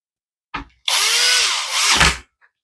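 A power drill drives a screw back into a Midea induction cooker during a repair. A brief blip comes first, then one sustained, close whirring burst lasting over a second.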